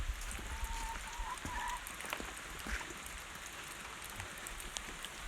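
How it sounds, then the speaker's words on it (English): Steady outdoor rain in a heavy monsoon shower pours across a farmyard with a barn, goats and chickens, a dense, even hiss with scattered drops spattering on surfaces throughout, no voices. "Even in a monsoon."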